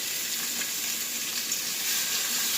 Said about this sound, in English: So I'm going to go ahead and fry this up.